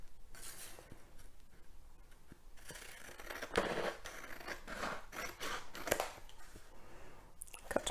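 Scissors snip through painted paper while cutting out a door shape for a wall pattern craft, a series of quiet, close, irregular crisp cuts and rustles with small pauses between strokes.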